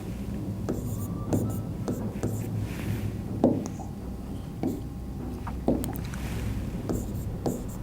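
Writing on a board during a physics lesson on transformers, heard as a series of short, sharp tapping and scratching strokes at irregular intervals over a steady low room hum.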